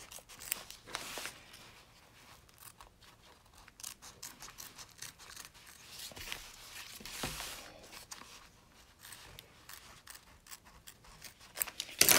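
Scissors snip repeatedly through fabric while trimming a badge coin purse, in quick, uneven bursts, close by and fairly quiet, with soft handling rustles between cuts.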